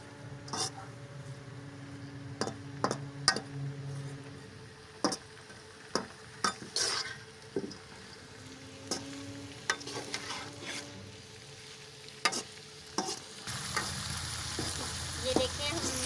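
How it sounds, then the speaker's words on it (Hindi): Onions fry in ghee in a pan with a soft continuous sizzle, punctuated by repeated sharp spoon clinks and scrapes as they are stirred, close and fairly quiet, growing louder toward the end. "इसी घी में हमने प्याज डाल दिए। इसको हम 5 मिनट तक घी में अच्छी तरह से भून लेंगे।"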